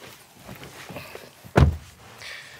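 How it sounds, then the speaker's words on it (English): Rear door of a SEAT Tarraco seven-seat SUV opening with a single sharp latch thunk, close by, after a few soft handling sounds and quiet surroundings. "let's check out the rear, and that's accessed through these wide opening doors"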